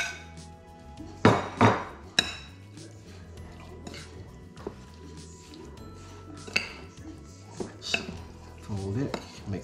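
Crab stuffing mixed with crushed Ritz crackers and lemon in a bowl: a few hard clinks and knocks of a utensil against the dish, then softer irregular stirring scrapes and occasional taps, close and fairly quiet.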